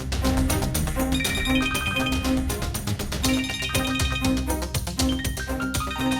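A mobile phone ringtone plays in a Hindi-dubbed South Indian action film scene, a repeating melodic ring at steady intervals over dense background music, loud and continuous.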